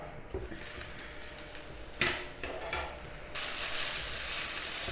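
Chicken thoran with grated coconut cooks in a covered pan over a low flame, giving a steady soft sizzle with a brief metallic clink of a lid or utensil midway and a louder hiss near the end.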